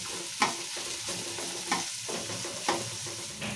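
Onions and green chilies frying in a small amount of oil in a pan, a steady soft sizzle broken by a few louder stirring scrapes, close and alone with no voices.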